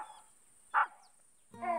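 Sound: cartoon dog barking at a tree

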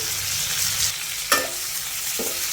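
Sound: garlic and curry leaves frying in pan

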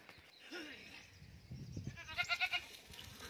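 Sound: goat bleating

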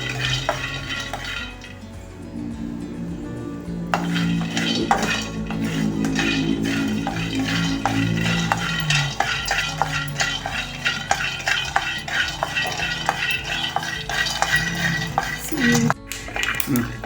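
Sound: roasting peanuts in a pan with stirring

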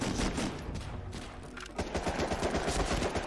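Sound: gunfire in Medal of Honor Rising Sun video game

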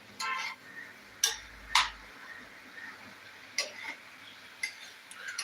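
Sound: stirring egg curry in an iron pan

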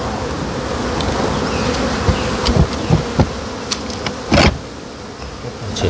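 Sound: honeybees buzzing during acacia honey harvest

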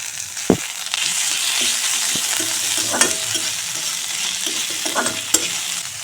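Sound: chilli, garlic and ginger paste frying in fish oil

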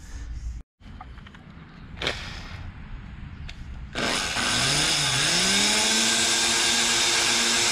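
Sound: drilling out punched indentations in a Civic front bumper

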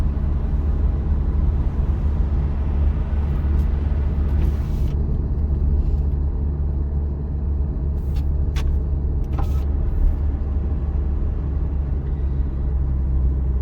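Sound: car driving in third gear at about 40 km/h

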